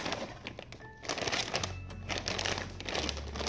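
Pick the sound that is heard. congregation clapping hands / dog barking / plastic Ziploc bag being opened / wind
plastic Ziploc bag being opened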